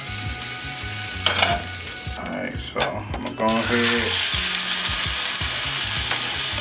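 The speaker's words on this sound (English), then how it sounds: "and add my wrapped halibut to the pan. You see that sizzle, that's what you want." Halibut sizzles and crackles steadily in a hot buttered pan while a person talks over it, with brief clinks of utensils.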